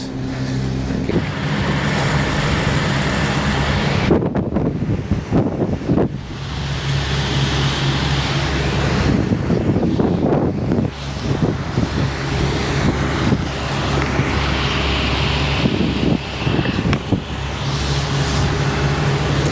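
Steady wind at sea aboard a Lagoon 51 catamaran motoring in about 13 knots of breeze, a constant loud rush with microphone buffeting and gusty swells throughout, engine drone beneath.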